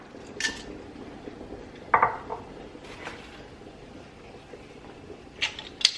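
Shrimp shells and tails clatter into a cooking pot for Mexican shrimp ball soup, a few brief knocks and scrapes against metal at irregular moments, near and fairly quiet, with no talking.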